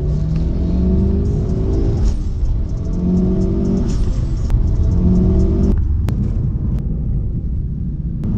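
A Mitsubishi Lancer Evo 8 drives along a scenic road, its engine a steady, close, throaty rumble with repeated rises in pitch as it pulls, with no talking.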